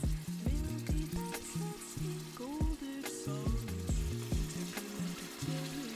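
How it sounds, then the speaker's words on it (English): Pieces of beef tongue searing in hot oil, a steady close sizzle and crackle with no talking. "Quick little sear on both sides."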